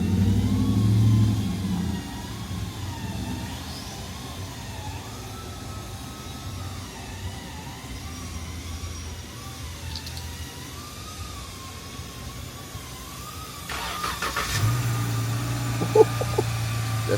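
A car engine runs steadily with a wavering mid-pitched drone, then revs louder and rougher near the end, heard from nearby.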